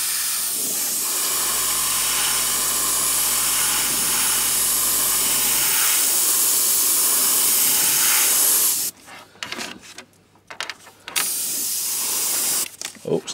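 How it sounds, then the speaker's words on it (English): An Iwata airbrush sprays thinned paint onto a foam Eldar defence line for Warhammer 40,000, giving a loud, steady close hiss for several seconds, then breaking into short, stop-start bursts. "I'm going to go in with the airbrush. I'm using the Iwata again, and just give this a nice coating"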